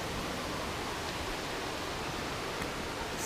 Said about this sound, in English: You can hear the falls, which go really high up.